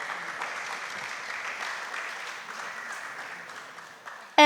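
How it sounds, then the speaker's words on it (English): Steady applause from an audience at a youth peace conference session, a sustained even patter of many hands clapping at moderate level, tapering slightly before cutting off. "So a big applause to Pajule, a city in Uganda."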